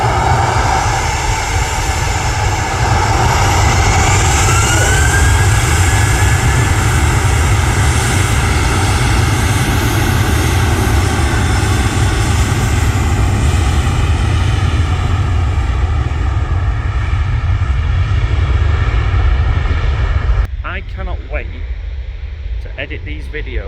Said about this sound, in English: hear these engines at full sound